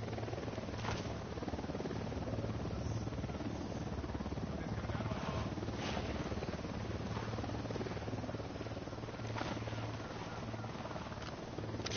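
A steady, low helicopter rotor drone runs continuously through twelve seconds of Ghost Recon Wildlands play, with a few faint sharp clicks and noises on top.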